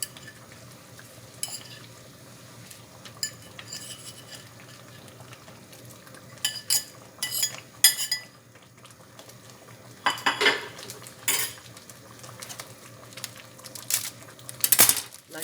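Fried ground beef for burger steak being stirred in a pan, with scattered clinks and scrapes of a utensil against the cookware, irregular and close, with faint sizzling between strokes.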